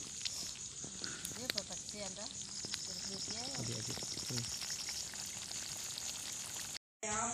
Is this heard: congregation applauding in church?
no